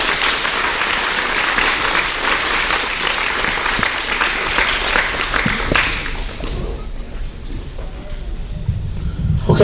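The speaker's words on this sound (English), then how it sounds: "Please give a round of applause for Ms." Graduation audience at a Montana high school ceremony applauds a departing teacher: a dense crowd clapping for about six seconds, then thinning to scattered claps and low murmuring voices as the sound tails off.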